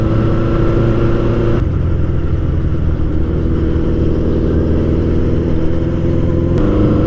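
A Honda Nighthawk motorcycle rides along a road, giving a steady, loud engine drone with a continuous low hum and wind rush, holding an even pitch the whole time.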